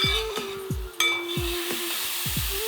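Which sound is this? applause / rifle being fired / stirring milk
stirring milk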